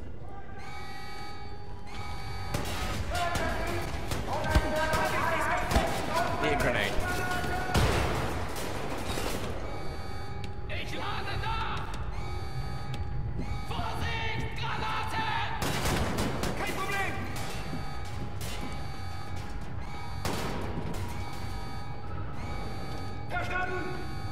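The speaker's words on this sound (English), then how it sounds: "Go with the shotgun, and down we go." Gunfire in Wolfenstein: The New Order, with shotgun blasts, crashes and loud combat sounds repeating across a busy game scene under background music. A person talks over parts of it.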